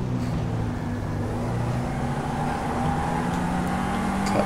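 Supercar driving in GTA V, a steady engine drone with a low tonal hum and road noise that holds fairly constant at moderate loudness, no talk over it.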